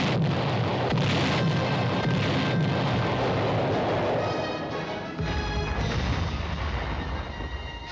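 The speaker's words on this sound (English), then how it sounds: "Having called for artillery fire, the observers stand by." Artillery batteries firing during military cadet summer training, with loud, rumbling booms from several miles away filling the whole stretch and a sharp blast around the five-second mark.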